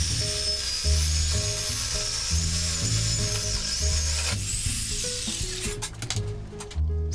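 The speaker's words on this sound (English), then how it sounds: "And then we're going to start cutting this thing with the jigsaw." A jigsaw cuts through aluminum for a fixed-gear bicycle strap, a continuous buzzing rasp that drifts in pitch. Toward the end it breaks into choppy, stuttering bursts as the blade gets stuck.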